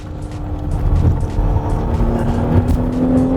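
A 2021 Porsche Cayenne E-Hybrid, an SUV weighing over two tonnes, driven hard on a narrow, twisty track, its engine droning steadily and loudly close by with a rising tone and no voices.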